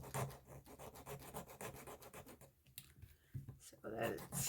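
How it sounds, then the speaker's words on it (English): Sandpaper rasps in short repeated strokes across a small cured UV resin pendant set in a bangle with embedded weeds, close and fairly quiet. "And now let's sand that down some"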